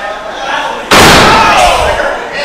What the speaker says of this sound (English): Slamming him like a sack of potatoes that he would cut up in julienne later into fries.